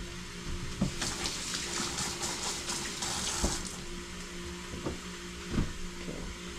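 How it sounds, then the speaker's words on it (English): A kitchen tap runs in a steady close stream while hands are rinsed under it, the flow broken by a few splashy changes and soft thumps against the sink. "rinse my hands."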